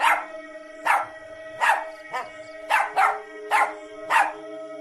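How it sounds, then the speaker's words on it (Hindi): An animated dog barks at a witch in a rapid series of about eight loud, close barks with a steady tonal hum underneath. "तभी टफी घर से बाहर निकलता है और चुड़ैल को देखकर भौंकने लगता है"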